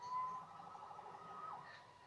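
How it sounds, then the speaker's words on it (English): A police siren in a Spider-Man video game wails steadily in the distance, fairly faint against a dull background hum, with no voices. "Saved by the siren."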